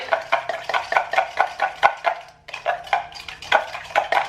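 Salad dressing whisked in a bowl, a steady rapid rhythm of utensil clicks against the bowl with a brief pause midway, loud and close, and no voices.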